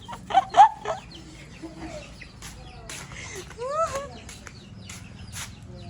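A red hen clucking outdoors in a village, with short bright calls early on and a sharper upward cry near the middle, set against steady ambient background noise.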